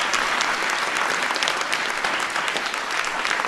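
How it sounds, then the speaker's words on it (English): An audience at a speech event gives a big round of applause, a loud, dense and even wash of many hands clapping at once, sustained without pause and with no talking over it. "So give Anirudh a big round of applause."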